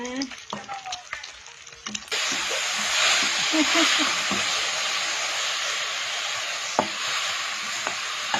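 Fried egg sizzling in a pan, cooked as part of a mushroom stir-fry. Starts with some clatter and a few brief sounds, then a loud, steady broadband sizzle takes over and continues right to the end with only small pops.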